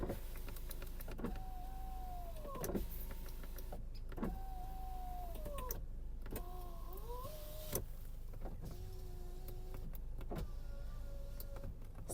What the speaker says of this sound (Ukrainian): підйомники працюють в всіх режимах, максимум донизу. дотяжка йде.